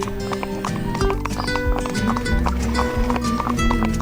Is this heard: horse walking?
yes